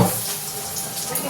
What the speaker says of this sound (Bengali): ফলটা ধুয়ে রাখবো।